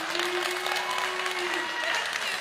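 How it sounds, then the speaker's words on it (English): An audience claps at a congressional debate in Lamar County, Texas, a dense, fairly soft patter of applause heard throughout, with a steady tone and some voices mixed underneath. "We ask the audience, please refrain from clapping and cheering"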